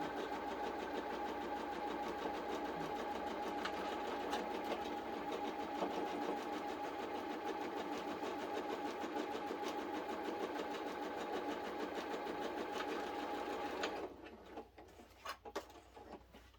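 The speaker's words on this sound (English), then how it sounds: "all I did there was flip it over and re-sew down the line to make sure that I caught the under fabric" A sewing machine stitches quilting fabric in a fast, steady mechanical whir with rapid ticking, running continuously and close for about fourteen seconds before stopping, leaving a few soft clicks.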